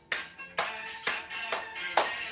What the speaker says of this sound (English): Clap them high.